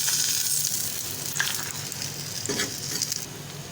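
A paratha frying in oil on a hot pan, a steady close sizzle with brief crackling bursts and spatter, constant and moderately loud, no voices.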